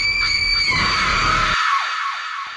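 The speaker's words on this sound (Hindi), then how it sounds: "वो चुड़ैलों की तरह चीख भी रही थी।" A woman lets out a loud, shrill, drawn-out scream, high and piercing like a cackling witch, fading off toward the end.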